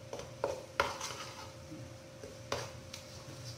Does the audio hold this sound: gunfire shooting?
no